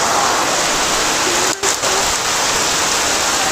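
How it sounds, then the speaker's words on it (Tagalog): Heavy rain pours down in a steady, dense hiss that fills the whole clip, with a brief dip in the middle before the downpour resumes just as loud. "ang lakas kasi ng ulan"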